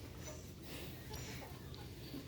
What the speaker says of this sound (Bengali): এটা হচ্ছে আমাদের মুরগির বারান্দা।